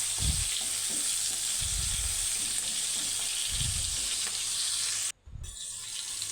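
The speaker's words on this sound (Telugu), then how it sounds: "టూ మినిట్స్ వాటిని ఫ్రై చేసుకోవాలి." Green chilies and tomatoes fry in a pan with a steady bright sizzle, broken by a few low stirring scrapes and a brief dip near the end; no one speaks.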